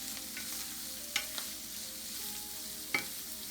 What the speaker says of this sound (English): We can saute it for 1 to 2 minutes.